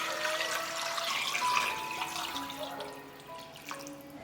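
Clean water runs and splashes into a clay pot holding blanched pig trotters and crushed ginger, a soft, close pour that trails off into drips.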